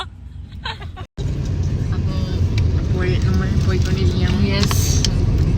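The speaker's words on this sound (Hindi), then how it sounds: "यस बहुत ट्रैफिक है" Heavy street traffic at Samta Mulak Chowk in Lucknow, a dense steady roar of cars, buses and engines with scattered horn tones, close and loud throughout, with a brief dropout near the start and voices mixed in.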